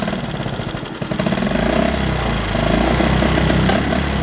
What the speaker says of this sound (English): listen to how good it runs at idle